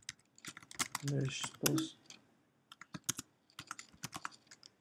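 Computer keyboard typing on a QNAP Turbo NAS setup computer, quick clusters of crisp key clicks in short bursts, with a voice speaking briefly in between.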